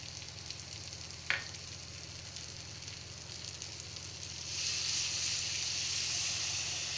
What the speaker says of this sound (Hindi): अब इसमें मैं डालूँगा पानी।